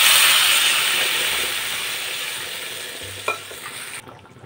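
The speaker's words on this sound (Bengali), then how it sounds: "1 বাটি জল এর মধ্যে দিয়ে দিচ্ছি।" Water poured into spiced potatoes frying in a pan sets off a loud hissing sizzle that slowly fades, with a short clink before the sound cuts off near the end.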